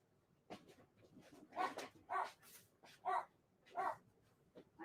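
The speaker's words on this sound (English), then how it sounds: "Or are you barking at somebody?" A dog indoors barks about four times in an evenly spaced series of moderately loud barks, with softer whimpering between them.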